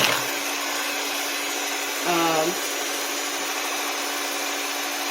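Electric stand mixer with whisk attachment running on medium, a steady close whirring hum that briefly changes pitch as an ingredient is added, with no talk over it.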